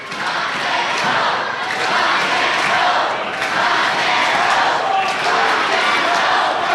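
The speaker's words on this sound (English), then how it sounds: "The crowd with that chant of rock and roll" A wrestling arena crowd chants "rock and roll" in a loud, rhythmic roar that swells and dips in waves, with a steady wall of crowd noise throughout.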